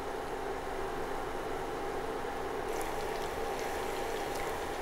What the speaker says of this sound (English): I'm actually deep frying my second batch of the bitter melon